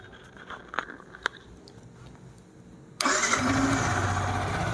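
A 2023 Yamaha R15 V4 motorcycle in matte black fires up with a single quick start and settles into a steady, loud close idle after a few faint clicks and handling noises.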